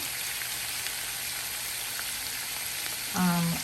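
Shrimp searing in a hot pan give off a steady, soft sizzle with a crackling hiss that carries on throughout, followed by a brief voice near the end.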